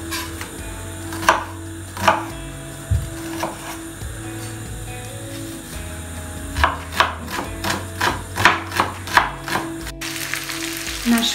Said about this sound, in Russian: Нарежем лук